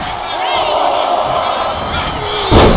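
A loud wrestling arena crowd cheers and roars continuously at a WWE live match, with a commentator's voice over the din and a sharp swell of noise near the end.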